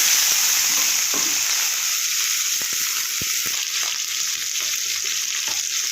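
Beans, potatoes and eggplant fry together in a pan with turmeric, a loud, steady hiss broken by a few sharp clicks of stirring.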